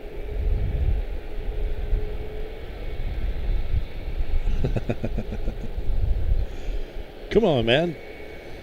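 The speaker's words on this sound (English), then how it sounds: "Etihad is across the way, turning over this way." Etihad airliner taxiing and turning at Charlotte-Douglas International Airport, a steady distant engine rumble with a rising whine partway through, under brief talk.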